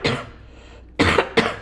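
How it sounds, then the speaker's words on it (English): A person coughing during a Minecraft UHC gaming session: one cough, a pause, then two close, loud coughs in a row with no talk over them. "Sorry for my coughing."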